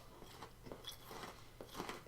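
A Crunchie bar is bitten and chewed up close, giving faint, irregular crunches and crackles in quick bursts against quiet surroundings.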